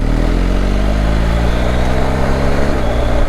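BMW R1250GS TE Triple Black motorcycle engine climbing uphill at 15 mph in third gear, a steady loud low-pitched boxer drone with a smooth rising tone and no talking.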